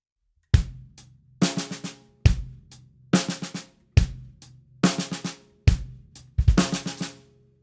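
A drum kit plays a groove of 16th-note triplet ghost notes: loud accented hits repeat at a steady pulse, each trailed by quick, softer strokes, close and dry with no voices.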